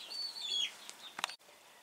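Chickens cluck and chirp softly at a moderate distance in a cool farm shed, a few short calls and thin tweets before a brief clatter and a quieter tail.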